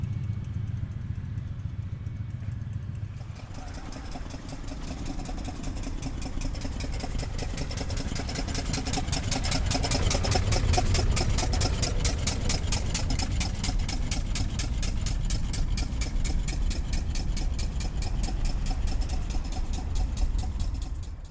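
A 1966 Ferrari 275 GTB at a concours event: its engine idles after a brief quieter start, then settles into a steady, close, fairly loud rumble with a fast, even pulse that holds alone throughout.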